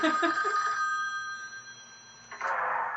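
An old telephone rings in a house, a steady trilling bell tone that starts clear, fades slightly through the middle, then swells again near the end, with no voices over it.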